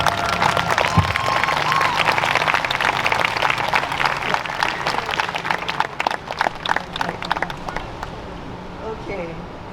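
An outdoor audience at a hula performance claps in a sustained burst of applause that thins and fades toward the end, with crowd murmur and a voice briefly audible early on.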